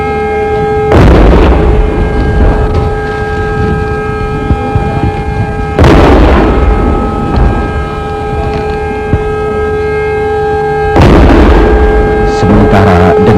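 Ceremonial cannon salute at the Indonesian Independence Day proclamation ceremony, three heavy booms spaced about five seconds apart over a steady wailing siren drone.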